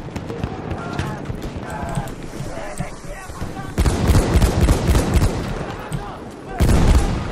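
Machine gun fire in the Battlefield 1 game: rapid bursts of gunfire cluster loudly near the middle and end, alongside other battle noise, with no talking.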